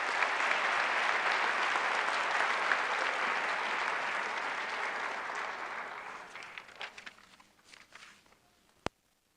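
Audience applause at a college of science spring pre-commencement ceremony, a dense sustained wash of clapping in a large hall that gradually thins into scattered claps and fades out near the end.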